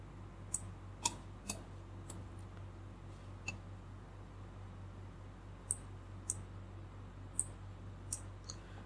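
A computer mouse clicks during Blender software work, giving about ten sharp, isolated clicks at irregular intervals, quiet and close, with no talking.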